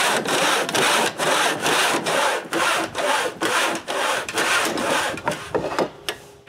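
Repeated strokes of a saw cutting cedar stretchers to length for a small cottage table, a steady run of close, loud back-and-forth rasping cuts with brief gaps between them.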